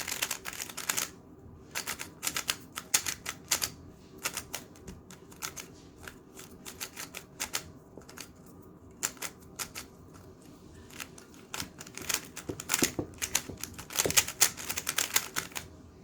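A brand-new Moyu RS3M speed cube being turned for the first time, giving rapid bursts of crisp plastic clicks and clacks close by, with short pauses between runs of turns.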